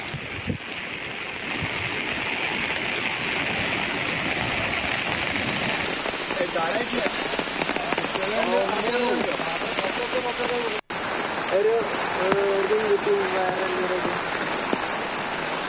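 Heavy rain falls steadily over flooded ground in Erumapetty and Velur panchayats, a dense continuous hiss running through the whole stretch; a voice talks over it midway, with a brief dropout near the end.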